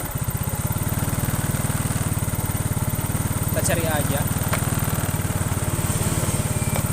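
A Yamaha Mio scooter engine running with slight throttle blips, its steady putter loud and close, under someone talking; the engine stutters at first throttle, runs rich and lacks power.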